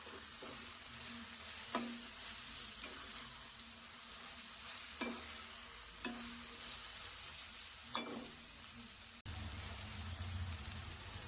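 Fresh green peas fry in a pan for chitranna, a soft steady sizzle with faint periodic stirring scrapes every second or so, quiet and close.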